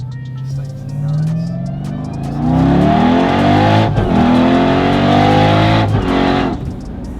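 A 1000HP Jeep Trackhawk SUV accelerating hard, loud rising engine roar climbing through gears with a shift midway, close and dominant throughout.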